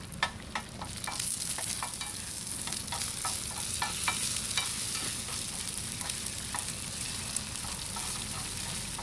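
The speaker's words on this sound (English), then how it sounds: "He's frying now." Food sizzles and crackles steadily in a pan on a CampMaid camp cook set outdoors, with sharp pops and spatters scattered over a continuous hiss and a few utensil scrapes.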